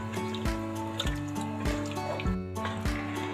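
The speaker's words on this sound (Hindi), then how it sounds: "यहाँ पे मैंने 1 बड़ा गिलास पानी का डालना है" Water pours from a large glass into a simmering chicken and egg kofta curry, a repeated splashing trickle with soft rhythmic drips and gurgles, close and fairly quiet over a steady background hum.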